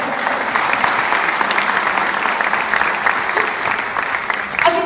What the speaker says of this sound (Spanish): Dar un aplauso a aquel que lo hizo por nosotros.